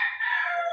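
A white gamefowl rooster of Oriental Claret line crows once on a game farm, a loud, close, sustained call with no other sounds around it.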